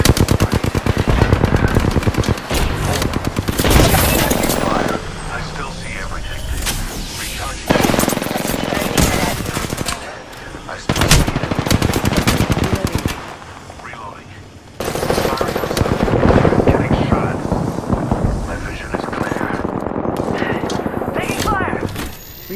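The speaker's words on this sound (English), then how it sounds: "I'm taking shots." Automatic weapon fire from the Apex Legends battle royale game comes in dense bursts separated by brief pauses, loud and close, with game effects and some talk mixed in.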